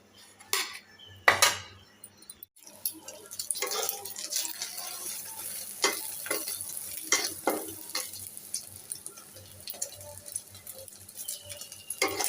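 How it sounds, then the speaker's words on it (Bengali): Eggs frying in oil in a home kitchen pan, with a soft steady sizzle under sharp utensil scrapes and clanks of stirring, close and alone without talk. "এভাবে রেখে রেখে ভাজলে না ডিমগুলো অনেক সুন্দর হয়"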